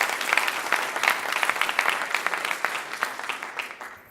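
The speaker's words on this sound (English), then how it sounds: "So let's give this special young man a round of applause." Audience applause at a valedictorian, salutatorian and STAR student breakfast, a steady dense patter of many hands clapping that holds for several seconds and tapers slightly at the end.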